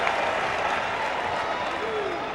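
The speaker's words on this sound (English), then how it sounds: "Crowd on its feet and roaring now." A basketball arena crowd roars and applauds at a college game, Michigan State against Wright State in 1999, a dense, loud wall of cheering with a commentator talking over it.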